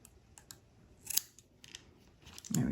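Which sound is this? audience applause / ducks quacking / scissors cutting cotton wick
scissors cutting cotton wick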